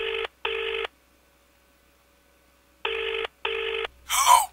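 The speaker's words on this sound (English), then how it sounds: "next anonymous phone dial" Telephone dialing and ringback tones in clear, evenly spaced beeping bursts, two pairs separated by a pause, then a muffled voice answering at the end.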